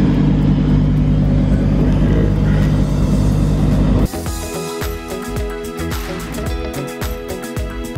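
A Porsche Panamera on air suspension drives along, its engine droning loud and steady, then easing to a lower, lighter rumble with intermittent ticks and clicks.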